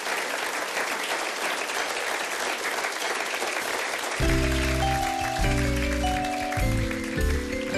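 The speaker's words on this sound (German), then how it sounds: "Großen Applaus für die tapfere, sich immer neu erfindende Elisabeth Kullmann" Audience applause welcoming a singer onto a stage, dense and sustained clapping throughout; after about four seconds piano chords enter beneath the continuing applause.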